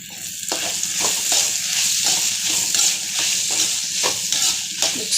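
Garam masala, chilli powder and turmeric sizzling in a hot pan for potato rice, a steady close frying hiss broken by repeated scraping strokes of a stirring spoon.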